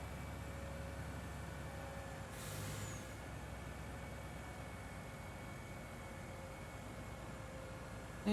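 A truck's air brake in Farming Simulator 20 gives a brief hissing burst over a steady engine drone, with the hiss fading quickly.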